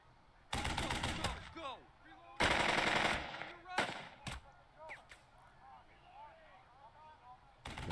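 Machine gun fire from the Burden of Command tactical video game, several loud sustained bursts of automatic fire spaced across the stretch with shorter crackling shots between, alone without talk.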